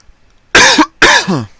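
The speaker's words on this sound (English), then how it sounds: "am so sorry about my cough, guys" A person coughs twice in quick succession, two loud, close, harsh bursts separated by a short pause in an otherwise quiet room.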